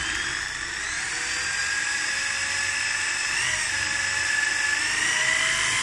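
A power drill bores into wood while a wooden sissy bar is being made, giving a steady, high-pitched whine that holds for about six seconds with no pauses.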